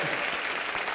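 A comedy show's studio audience applauds in a dense, even burst of clapping, brief and fairly quiet, with no talk over it.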